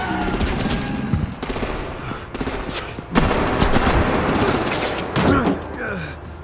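Gunfire in the Batman: The Enemy Within game: sustained bursts of rapid automatic shots crackle loudly and continuously, broken by a few sharp heavier hits, with voices talking over the shooting.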